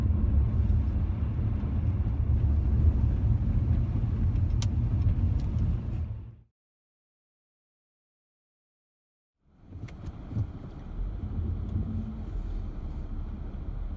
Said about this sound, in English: Getting a lot of wheel spin, a lot of tire hop, and a lot of feedback through the steering wheel.